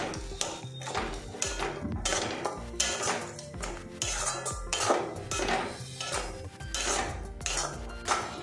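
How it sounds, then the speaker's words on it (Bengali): Green peas sautéed with spices in a kadai, a metal spatula scraping and clinking against the pan in a steady, busy rhythm of taps and scrapes, close and fairly loud with no talk. "কড়াইশুঁটি দিয়ে মশলার সাথে বেশ কিছুক্ষণ কষিয়ে নেব"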